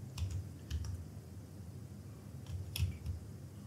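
Soft, sparse keystrokes on a computer keyboard while words are typed into an email, a few scattered clicks over a quiet room hum.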